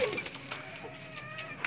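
Racing pigeons coo softly in a loft, with low repeated calls over faint background noise.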